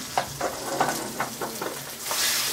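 Salmon frying in oil in a tilted pan, a short close sizzle with soft crackling pops and a brief surge at the end.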